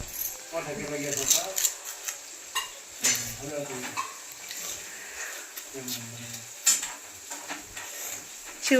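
Potatoes with cumin cook in a pan as they are stirred, with light scraping clicks and a soft sizzle sitting under steady close conversation.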